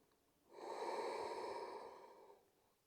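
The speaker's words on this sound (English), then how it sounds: "Taking one more breath here." A single slow, deep breath drawn in and let out during a morning yoga stretch, soft and close, rising over about two seconds and then fading, with no talking around it.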